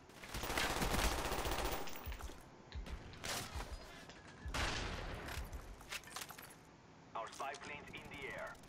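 A Kiparis submachine gun in Black Ops fires in several rapid bursts, with crackling fusillades spread across the span and someone talking over the gunfire.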